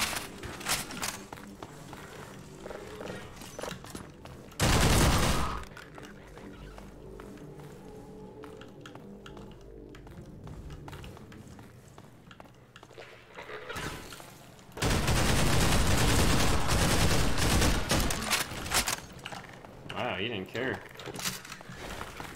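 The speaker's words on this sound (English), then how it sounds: "What is shooting me?" Gunfire aimed at the player in Half-Life 2: Lost Coast, a modded first-person shooter: bursts of rapid shots, with two loud sustained volleys and steady clatter in between, mixed with footsteps and game noise.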